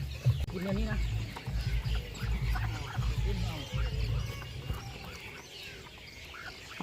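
Chickens cluck and murmur in a busy flock, fairly close, under a low rumbling background and some voice-like sounds.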